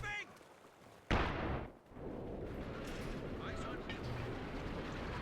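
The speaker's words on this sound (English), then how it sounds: "I do indeed hear an infantry support gun from Barton." Infantry support gun artillery fire in the Company of Heroes 2 real-time strategy game: one sharp, loud blast about a second in, followed by a rumbling decay and steady battlefield din underneath, with a voice talking over it.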